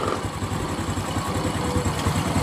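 A Honda Karisma motorcycle engine idles steadily and close by, with a low, even throb while its carburetor is being adjusted.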